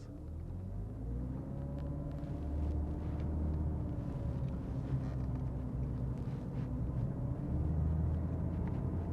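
Engine of a black 2006 Porsche 911 heard from the cabin while driving, a sustained deep rumble with a gently rising pitch as the throttle is applied, steady and fairly loud with no talking.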